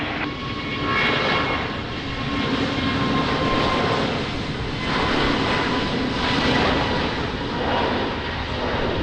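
A landing airliner at Lisbon Airport on a rainy morning roars steadily with engine noise swelling and fading over several seconds, no voices.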